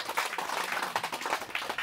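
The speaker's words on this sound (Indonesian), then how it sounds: "Kita berikan tepuk tangan bersama." Crowd applause at the opening ceremony of a church celebration in Tambora, Nusa Tenggara Barat, a steady wash of many hands clapping at moderate distance for a couple of seconds, with no talk over it.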